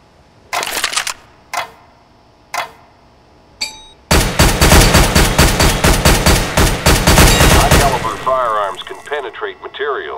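Counter-Strike: Global Offensive gunfire on a weapons training course: a few single shots spaced apart, then a long run of rapid, loud cracks in tight controlled bursts, followed by fading clatter.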